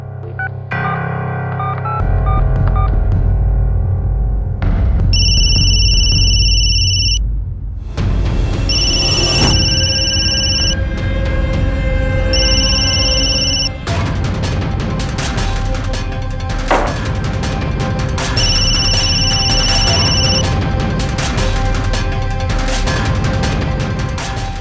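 Repeated electronic telephone ringing in bursts over loud dramatic background music and percussive hits in a crime drama scene.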